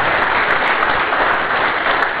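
Audience applause at a conference about a GPS permanent station network, a steady dense wash of clapping that stays loud and even for the whole stretch with no voices over it.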